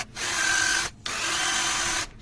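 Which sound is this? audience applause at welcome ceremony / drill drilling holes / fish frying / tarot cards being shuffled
drill drilling holes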